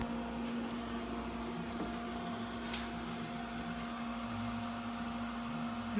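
A Monster drink mini display refrigerator's compressor runs with a steady, continuous low hum and a constant tonal whine, close and even throughout with no talking.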